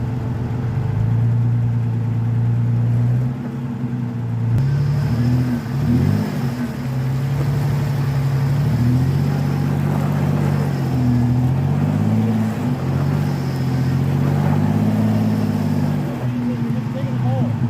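A Jeep Cherokee engine revs and labours at low speed as it crawls onto traction boards in mud, a loud steady drone rising and falling in pitch, with people talking over it.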